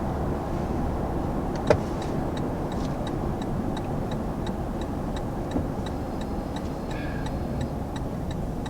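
A 2020 Lexus LX 570 engine pulls steadily under throttle while driving, a continuous low drone with road rumble, alongside faint repeating ticking from the cabin and one brief knock.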